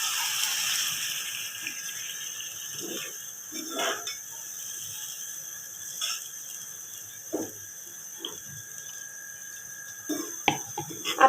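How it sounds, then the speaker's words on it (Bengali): Water pours into a pan of fried swarna puti fish with tomato as a soft, continuous hiss and trickle, broken now and then by faint splashes and light clinks. "এখন আমি এর উপর দিয়ে একটু পানি দিয়ে দিব"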